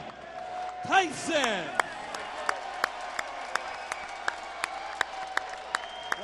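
At a heavyweight boxing event, the crowd applauds Mike Tyson's ring introduction, a broad wash of clapping under an announcer's voice at the start, followed by sharp, evenly spaced clicks over a steady crowd murmur.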